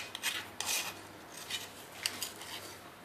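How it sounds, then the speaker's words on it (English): A spatula scrapes out a bowl after making Thai nam prik pao chili paste: a series of short, close rasping strokes with soft clinks, irregular and fairly quiet, with no talking. "I'm gonna scrape the bowl."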